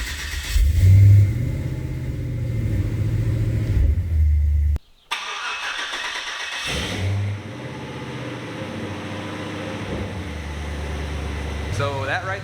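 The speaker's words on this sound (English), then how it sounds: "So that right there was a cold start." An LS-swapped El Camino cold-starts, its engine catching after a brief cutout and settling into a loud, rumbling idle through the exhaust, with a surging rev, while a person talks over it.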